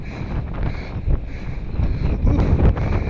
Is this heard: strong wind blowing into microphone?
yes